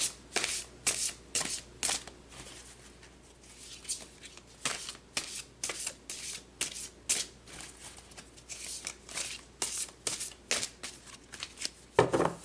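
Tarot cards are shuffled by hand in a quiet room: a long series of soft, rhythmic riffles and slaps, close and fairly faint, repeating steadily for over twelve seconds.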